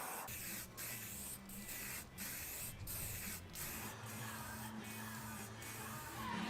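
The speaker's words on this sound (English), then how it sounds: "I'm using spray varnish here." Spray varnish hisses from an aerosol can onto bare wood panels for bedside tables, in a run of about eight short bursts, each a sharp, close hiss, with a faint mechanical rattle between them.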